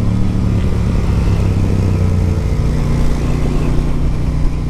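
A Moto Guzzi motorcycle engine runs close and loud in a steady low throb, holding a constant drone for the whole stretch with no clear rise in revs.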